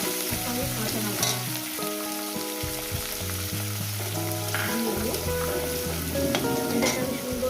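Sliced onion and green chilli fry in a pan for a Bengali katla fish curry, a steady close sizzle with light stirring scrapes throughout and no talking.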